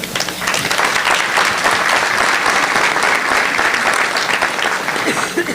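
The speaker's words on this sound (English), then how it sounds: "Can we get a round of applause?" Town hall audience in Philadelphia breaks into sustained, loud applause, steady dense clapping filling the whole stretch with a few crowd voices mixed in.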